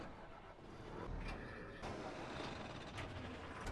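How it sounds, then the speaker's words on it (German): Truck engine in the Farming Simulator 15 game, a constant grainy drone with broadband hiss, fairly quiet and even, with no voices over it. "Ich fahr den LKW runter."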